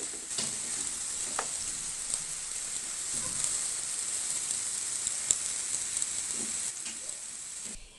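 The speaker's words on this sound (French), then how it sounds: "J'ajoute l'oignon, je vais le faire revenir un peu." Chopped onion frying in vegetable oil in a pan for a Moroccan dinner dish, giving a steady close sizzle throughout with a few faint stirring clicks and no talk.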